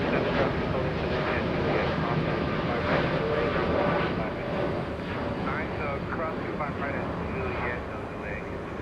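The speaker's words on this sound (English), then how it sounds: "Big Dreamliner lifting off, heading to Dallas, Washington." A United Boeing 787-8 Dreamliner taking off at Los Angeles International Airport makes a loud, sustained jet roar that fades slightly, while a voice talks over it.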